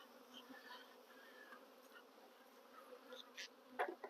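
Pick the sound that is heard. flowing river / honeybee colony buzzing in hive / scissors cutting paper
honeybee colony buzzing in hive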